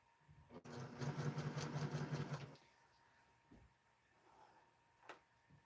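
A sewing machine stitches a quilt with 50 weight thread in a home sewing room, a fast steady mechanical whir running for about two seconds before stopping, followed by faint handling noises and a soft tick.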